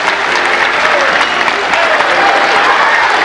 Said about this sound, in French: Et il sait se faire applaudir.